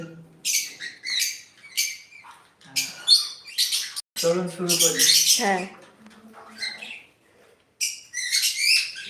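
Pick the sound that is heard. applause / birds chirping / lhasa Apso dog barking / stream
birds chirping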